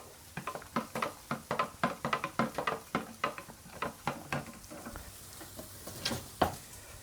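A spoon stirs in a container to dissolve a stock cube, making a run of quick, regular clinks and scrapes close by that slow and thin out toward the end.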